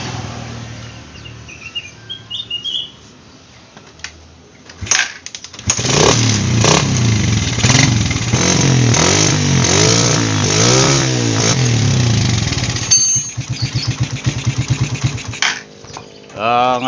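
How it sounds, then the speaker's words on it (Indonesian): A Suzuki Satria FU motorcycle that smokes badly sits running with its engine idling close by, steady and loud, with a brief blip of revs after a quieter start. "kalau bunyi mesin sih motornya ini enak"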